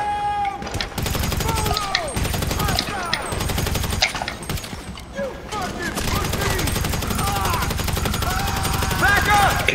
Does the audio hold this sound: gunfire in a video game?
yes